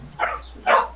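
A dog gives two quick barks close by, short separate yaps about half a second apart, loud and alone in a quiet room.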